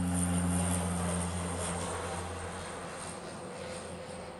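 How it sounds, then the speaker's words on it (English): A Japan Airlines Boeing 787-9 Dreamliner arriving from Tokyo on its landing approach at Honolulu passes as a loud, sustained jet roar with a low engine hum that slowly fades as it moves away. "This is the Japan Air. It's a -9"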